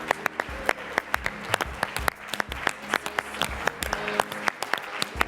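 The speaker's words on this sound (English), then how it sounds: "Let's give a round of applause." A crowd at an award presentation claps for the Impact Award winner, the Bioko Island Elimination Project. A few close, sharp hand claps stand out above the steady applause of the room.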